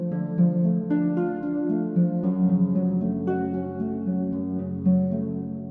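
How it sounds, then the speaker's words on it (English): Harp line doubled by a bassoon, plucked notes blended with a reedy sustained tone, moving steadily at an even, moderate loudness. "the bassoon seems to be doubling the harp as well"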